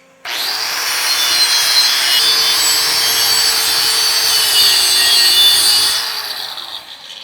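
A grinder runs against 6-inch, 3/16-inch-wall stainless steel pipe with a loud, sustained, high-pitched abrasive hiss that starts abruptly, holds steady for several seconds, then tapers off.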